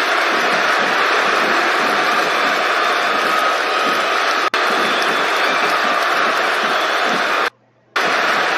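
A WWE 2K19 video game arena crowd roars and cheers as a steady, loud wash of noise that cuts out briefly near the end.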